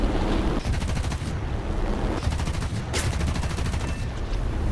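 Twin 20mm cannons on a Ki-108 heavy fighter in the War Thunder air combat game hammer out in loud, rapid bursts over a steady engine drone, with brief gaps between volleys and no talk.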